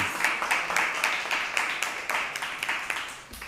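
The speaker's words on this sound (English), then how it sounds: "can we get a round of applause for these two teams?" Audience applause for two debate teams at a Jamaican debate between the Ministry of Health and Wellness and the Judiciary, a steady wash of many hands clapping with a faint regular beat, moderately loud throughout.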